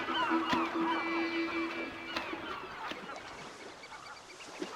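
Gulls call faintly at an Alaskan lake where sockeye salmon gather, with a few scattered cries over a quiet outdoor background.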